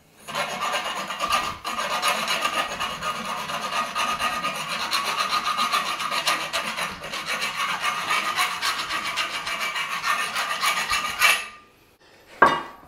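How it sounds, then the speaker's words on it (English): A round file rasps against the cut end of steel conduit, cleaning it up after reaming, in continuous close scraping strokes for about eleven seconds before stopping, with a brief knock near the end. "I'm going to use a round file this time."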